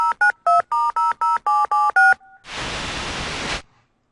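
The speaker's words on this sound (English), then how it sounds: "Let's call Elijah Witt" Telephone keypad tones dialing a number in the Tex Murphy: The Pandora Directive video game, about nine clear evenly spaced beeps followed by a steady rushing line noise, loud and alone.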